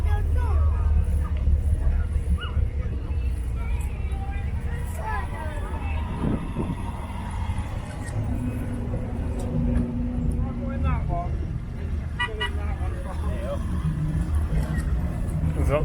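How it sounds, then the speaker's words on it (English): At a car and truck gathering in Pickering, an MG drives slowly out past other vehicles, its low engine rumble mixing with nearby traffic and a chatter of voices from the crowd. "We've got an MG now coming out."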